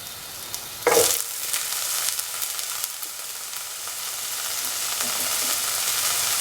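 Green aubergine sautéing in a pan: a clatter as pieces go in, then a steady, broad sizzling hiss that holds and slowly builds, with no talking.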